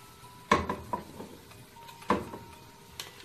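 Chicken and vegetable fried rice being stirred together in a pan, a spatula clanking sharply against the metal a few times in a steady, unhurried rhythm over a faint background hiss.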